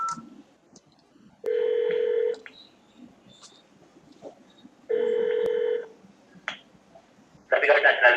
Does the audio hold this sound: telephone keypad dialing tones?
yes